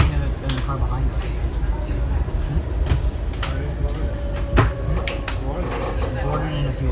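Steady rumbling rail noise inside a Kawasaki 7000-series metro car heading to Mt Vernon Square, with broadband rolling roar, occasional sharp clacks and a faint squeal, continuous and loud throughout.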